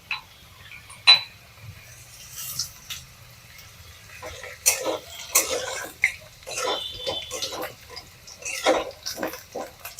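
Potato pieces fry with whole cumin and black cumin seeds in a pan of hot oil, giving sparse, irregular crackles and pops that sit fairly quiet against a low background.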